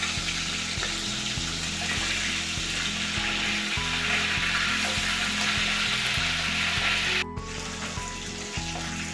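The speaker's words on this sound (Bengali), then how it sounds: "মাছগুলো কিন্তু খুব ভালো করে ভেজে নিতে হবে।" Oil sizzles steadily as pabda fish fries in a pan, a constant crackling hiss with a brief clatter near the end.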